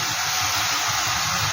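Ginger, garlic and green chili paste with onions sizzles loudly in a pan as it is stirred, a dense steady hiss over a brief burst of scraping.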